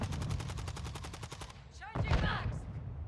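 Rapid SMG bursts from an MX9 in Call of Duty MWII rattle off in a fast steady stream, then stop, followed by in-game sound effects and a short spoken callout.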